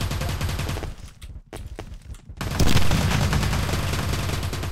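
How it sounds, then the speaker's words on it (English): Machine gun zombies fire in the video game Teleglitch, producing loud, dense bursts of automatic gunfire. The shooting breaks off briefly and then resumes heavier and continuous. "Neutralize machine gun zombies"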